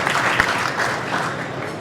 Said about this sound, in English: a big round of applause for David to leave the microphone